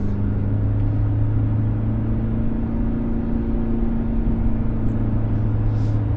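Kia Tasman diesel engine holding steady revs under engine braking while towing downhill in second gear, a loud, constant low drone with steady tonal hum throughout and no talk.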